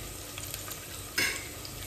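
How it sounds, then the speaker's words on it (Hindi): Chopped onions fry in oil inside a pressure cooker with a continuous soft sizzle. A spoon stirs them with a few light scrapes and one brief louder clatter. "उसमें ऑयल डाला, फिर प्याज फ्राई कर रही हूँ"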